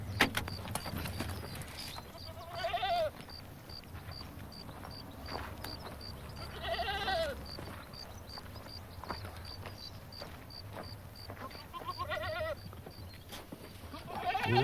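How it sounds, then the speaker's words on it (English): Goats bleat in several separate short wavering calls spread across the stretch, moderately faint amid hooves clopping and faint background noise, with no clear talking. "Watch out for the goats, Mrs. Root."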